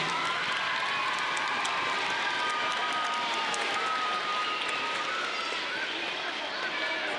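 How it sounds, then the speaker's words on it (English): Audience applause at a school awards ceremony, sustained dense clapping from a crowd filling the hall, steady and loud throughout with a murmur of voices mixed in. "Give Mrs. Eisenman a big round of applause."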